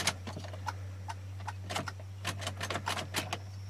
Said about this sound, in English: I hear clicking. That's never a promising sign.